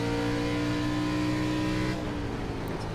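An ARCA race car engine in the iRacing sim holds a steady, loud drone with stable harmonics, then drops in pitch partway through as the throttle eases, all alone without talk.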